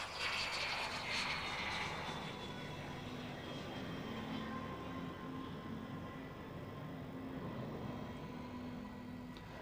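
A Spanish Air Force Dassault Mirage F1 jet fighter of the 142nd Air Defense Squadron passes at an airshow with a loud, sustained jet roar that peaks early, then slowly fades with a faint lingering whine.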